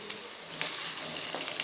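Finely chopped onion frying in oil that was browned with cumin and cinnamon for a chicken curry masala, a steady close sizzling hiss with a couple of faint stirring scrapes.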